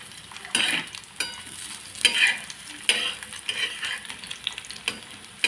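Semolina dough balls frying in oil and being turned over: a close, steady sizzle broken by a few louder scraping flips of a spatula, with no one speaking.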